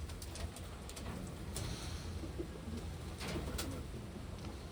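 Racing pigeons cooing in a loft among newly arrived birds, soft low murmuring calls over steady background noise with a few faint higher chirps.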